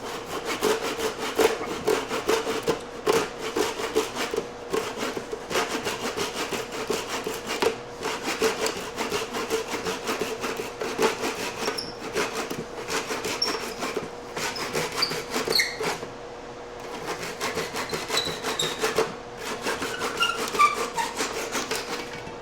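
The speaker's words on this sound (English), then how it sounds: "The dowels are dry, cutting them off." Steady back-and-forth hand sawing through dry wooden dowels on a barnwood bench, a rhythmic rasping of strokes that pauses briefly near the end before resuming, close up with no talking.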